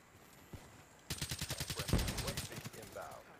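Rapid automatic gunfire from the Call of Duty Black Ops 3 video game rings out as a dense, evenly spaced burst of sharp shots after a quiet start, then trails off.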